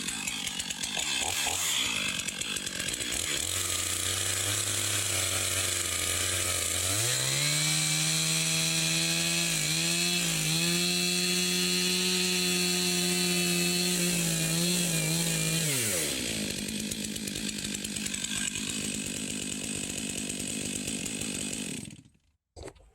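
A chainsaw cuts slowly through a log to square it into a 10-foot beam, engine roaring close and loud for about twenty seconds with pitch shifts as it bogs under load, then cuts off abruptly.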